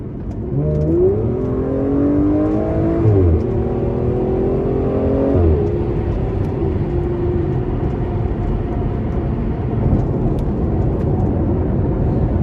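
A 2014 Aston Martin Vanquish V12 engine revs up in rising, sweeping pitches, then settles into a loud, steady roar close by, with no voices.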